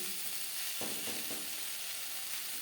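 Pointed gourd (potol) slices frying in a pan, a steady close sizzle with a couple of brief stirring scrapes, no voices.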